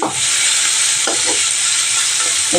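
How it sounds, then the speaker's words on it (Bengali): Nigella seeds crackle in hot oil for tempering, a loud, even, close-up sizzle with a few soft stirring strokes underneath and no voices. "কালো জিরে ফোড়ন দিয়ে দেখো ভাজা করে নিচ্ছি"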